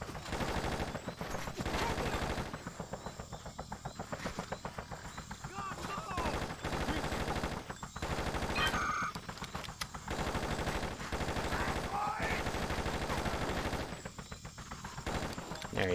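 Sustained automatic gunfire in the video game Just Cause, with dense repeated bursts running nearly nonstop over music and game effects, while someone talks over the action.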